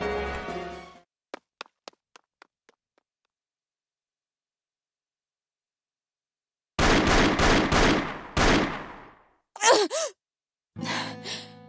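Gunfire in Labyrinth of Galleria: a quick string of fading light shots early on. After a silent gap come several loud, close blasts in rapid succession, followed by a voiced sigh or groan.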